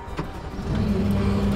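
A construction digger's engine starts and settles into a low, steady hum, close and even, with no voices.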